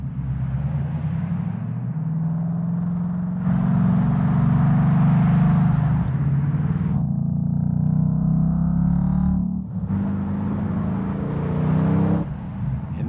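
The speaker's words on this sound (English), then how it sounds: "This is for the new Steve McQueen Bullet, a special car designed around that. Listen to that" A Ford Mustang Bullitt engine, the special Steve McQueen edition, heard in a commercial: a loud, deep rumble and revving that surges and fades in several waves, with brief quieter gaps, and no voices.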